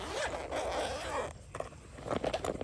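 Zipper on the carry bag of an ALLPOWERS S2000 Pro portable power station, pulled in a quiet scratchy run, then a short pause and a few more rasping tugs close by.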